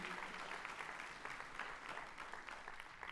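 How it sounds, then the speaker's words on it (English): An audience at a high school honor band concert applauds a guest flautist, a quiet, distant-sounding wash of many hands clapping steadily for a few seconds. "please give a round of applause to Kelly Southall"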